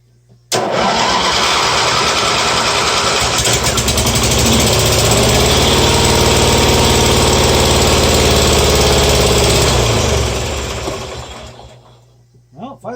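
A Simplicity 5116 garden tractor engine cranks and fires, running loud and steady for several seconds before dying out, followed by faint sputters.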